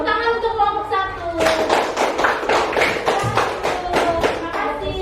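Group of pupils clapping in an Indonesian classroom after a group presentation, a dense run of claps from about 1.5 seconds onward, preceded by a teacher's voice and with talk continuing under the clapping.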